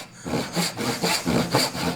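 A hand saw cuts wood along a gauge line for a tenon on a table apron, steady rhythmic push and pull strokes that are loud and close, with no one speaking.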